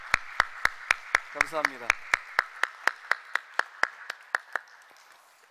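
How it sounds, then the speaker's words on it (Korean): A church congregation claps in unison for the Gloria youth praise team as the singers return to their seats. Crisp, regular claps continue for about five seconds and fade slightly toward the end, with a short spoken phrase early on. "글로리아 청소년 찬양단 우리 자리에 착석할 때까지 박수하겠습니다."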